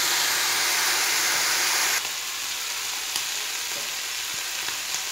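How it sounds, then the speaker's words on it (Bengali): Shrimp fry in oil on a gas stove, making a loud, dense hiss of sizzling that drops slightly partway through, with a couple of faint taps and no speech. "চিংড়ি মাছগুলো ভাজা হচ্ছে"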